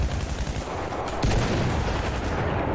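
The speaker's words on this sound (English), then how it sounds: "Oh, so I shoot flares up." Sturmtiger tank in Battlefield V firing a parachute flare round: a dense, loud burst of low rumbling blasts with a sharp boom near the middle, sustained heavy noise throughout, no talk.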